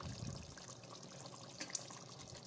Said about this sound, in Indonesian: Mau saya tambahin airnya